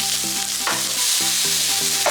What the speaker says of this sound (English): First of all we're going to put the leeks in